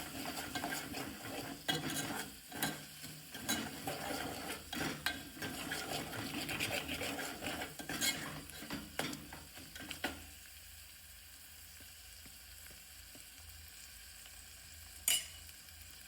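Turmeric, salt and coriander-cumin powder stirred into chana dal in a pan, with scraping spoon strokes and light sizzling for about ten seconds before it quiets to a faint hiss, plus one sharp clink near the end.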